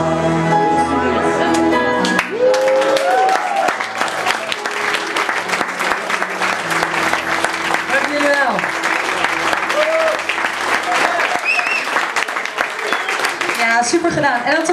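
Audience applause breaks out after a Dutch Christmas song, loud, steady clapping that fills the room for many seconds, with cheers and whistles mixed in as the music fades.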